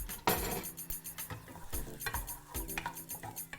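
A spoon stirs sauce round in a cooking pot, scraping and knocking against the metal with close, uneven clinks and swishes in a steady rhythm.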